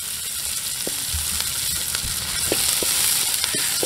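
Onions frying in a pan for beef stew give off a constant near sizzle, with a few sharp stirring clicks and scrapes scattered throughout.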